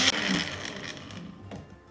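Mixer grinder whirring as it grinds Malwani chicken sukka masala paste, a steady broadband motor whine with grinding rattle that starts loud and gradually softens over about two seconds.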